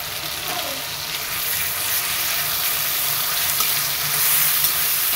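Ginger-garlic paste sizzles and fries in a kadai over onions and garam masala, with a steady close hiss and the scrape of stirring running throughout.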